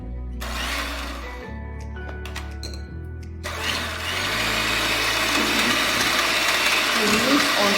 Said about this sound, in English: a hand mixer.